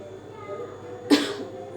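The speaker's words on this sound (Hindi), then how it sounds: "थोड़ा ना खांसी को इग्नोर करिएगा, क्योंकि ना मुझे अभी भी कफ है हल्का सा।" One brief, muffled cough close by, rising abruptly out of a steady low background hum.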